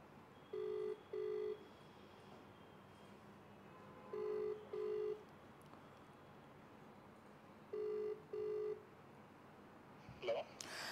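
Outgoing call ringback tone on a telephone line, heard as three paired double rings at steady intervals, moderately loud over a faint background hiss, ending with a brief clatter as the call connects.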